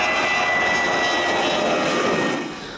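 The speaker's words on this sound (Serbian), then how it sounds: "ima fantastične motore, u pitanju su Rolls-Royce motori i Trent 700" A twin-engine Air Serbia airliner with Rolls-Royce Trent 700 engines gives a loud, steady jet roar with a thin whine running through it, with no talk, then fades slightly near the end.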